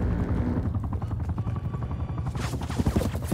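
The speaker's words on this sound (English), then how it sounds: "The chopper's the one that did it." A hostile chopper gunner helicopter in Call of Duty: Black Ops sends out a steady, loud rotor thrum, while bursts of gunfire and impacts crackle over it toward the end.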